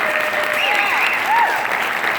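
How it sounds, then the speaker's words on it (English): An audience applauds loudly and steadily at an event, with voices calling and cheering over the dense clapping. "Big round of applause, guys."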